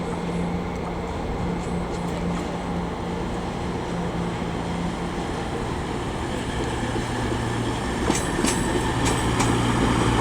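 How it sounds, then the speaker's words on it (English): A CrossCountry passenger train passes through Leeds station with a sustained loud rumble and rolling wheel noise, and a few sharp metallic clicks and squeals near the end. "here comes a cross-country service"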